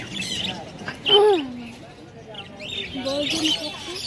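A three-month-old pet bird at the Meradia bird market chirps in short, bright calls, one louder burst then a run of softer tweets, while people talk nearby.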